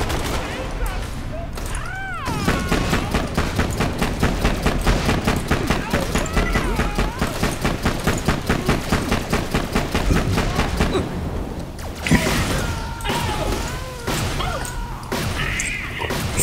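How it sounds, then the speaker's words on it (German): Rapid, continuous bursts of grenade launcher explosions and gunfire in Borderlands: The Pre-Sequel, loud and close, with a brief pause and then more blasts; voices talk over it. "Das ist mein Granatenwerfer neuer."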